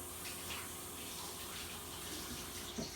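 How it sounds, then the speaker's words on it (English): Tap water runs steadily while hands are washed after handling bleach, a continuous close rush of flowing water with slight splashing shifts, loud and unbroken throughout. "Make sure that after you use bleach you wash your hands"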